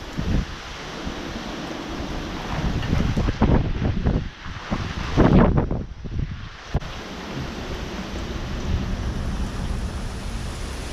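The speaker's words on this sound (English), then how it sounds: "That wind gust came right in here." A strong gust in a severe wind storm blasts against the microphone with loud rumbling buffeting that peaks midway, then settles into a steady heavy roar of wind.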